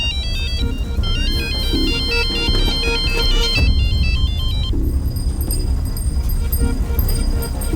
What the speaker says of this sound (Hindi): फोन आ रहा है आपका, फोन तो उठाइए